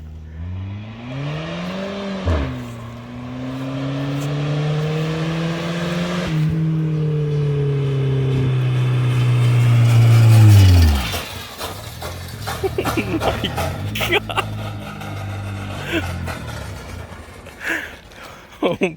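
A car engine with a full exhaust revs hard, its pitch climbing and holding in long sustained pulls before cutting off sharply, followed by scattered clatter and rattling; people talk around it.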